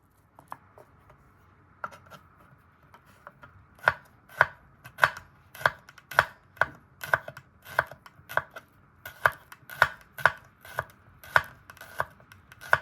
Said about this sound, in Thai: หั่นบางๆนะพี่น้องค่ะ